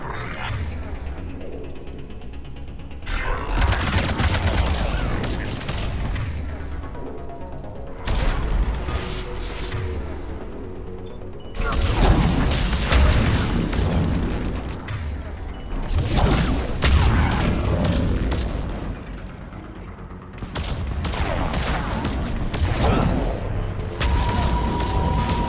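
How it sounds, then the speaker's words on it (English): Harvester enemies in Mass Effect 3 fire powerful shots, heavy booming blasts that come in long loud bursts separated by short quieter gaps, with mechanical clanks and rumbling battle noise mixed in. "the harvesters, they do have some powerful shots"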